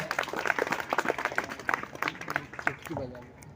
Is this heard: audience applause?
yes